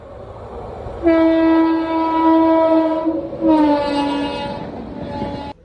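A local MEMU passenger train sounds its horn in two long, loud blasts over a steady rumble, the low roar of the approaching train continuing between them.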